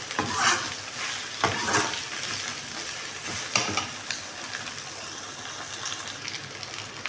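Bitter gourd pieces sauté in a pan with a continuous close sizzle, punctuated by several sharp scraping stirs early on that ease into a steadier, softer frying hiss.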